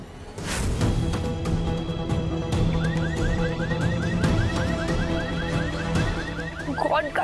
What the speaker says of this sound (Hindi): गॉड, गाड़ी का अलार्म बजने लग गया।